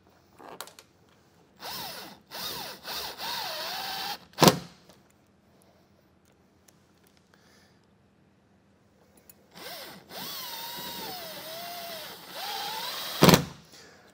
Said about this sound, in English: Phillips head screwdriver for these stainless steel screws